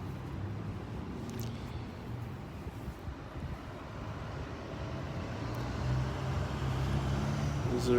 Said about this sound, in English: There's a red car driving out